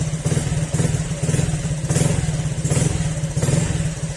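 A Honda Click 125 scooter engine runs close by with a rhythmic mechanical clatter from running without its pulley, pulsing in regular bursts roughly every half second.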